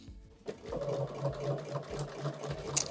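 Sewing machine stitching diagonal quilting lines across a diamond grid, a steady rapid mechanical hum broken by short pauses as the quilt is repositioned, close and continuous with no talking.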